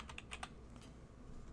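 Computer keyboard keys tapped while entering a password, a few quick clicks in the first half-second followed by one or two softer taps, faint and close against a quiet room.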